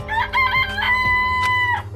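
A chicken in the video game Danganronpa crows and clucks in a loud, close run of harmonic calls lasting about two seconds, standing alone with no talk.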